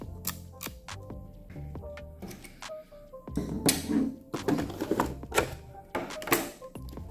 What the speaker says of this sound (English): This is the clipper, clicking lever.